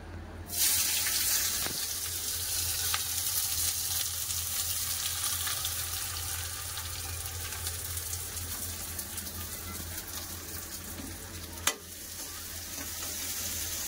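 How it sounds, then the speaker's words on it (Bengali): Onions frying in hot oil in a pan, a steady broad sizzle that runs throughout, fairly quiet, with one sharp clink near the end and no talk. "তেল গরম হয়ে গেছে, এবার পেঁয়াজ দিয়ে দেবো।"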